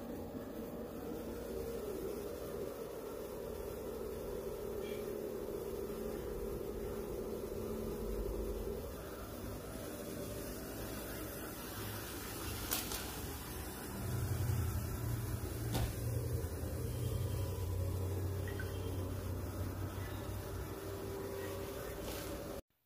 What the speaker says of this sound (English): In this demonstration, I have the robot running on its low power setting.